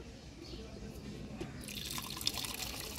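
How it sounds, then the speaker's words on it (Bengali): Hot water pours into a pot of turkey yakhni pilaf at a rooftop picnic, a steady close trickle and splash that swells louder in the second half, with faint background murmur. "এবার গরম জলটা দিয়ে দিই।"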